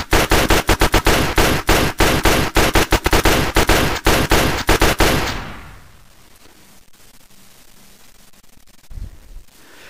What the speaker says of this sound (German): Und jetzt wollen wir natürlich die Pistole wieder hören.